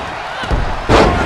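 A wrestler driven down in a backbreaker during a WWE Raw tag match: a short heavy thud of impact in the ring followed by a louder slam, under crowd noise and commentary.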